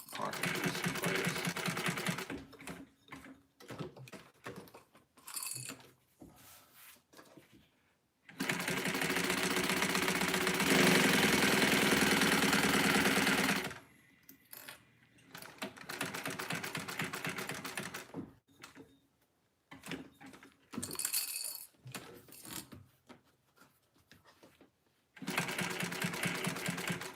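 A sewing machine tacks a pocket piece in place at a foot-width allowance, long steady whirring runs of stitching alternating with shorter bursts and pauses, close by, with someone talking between the runs.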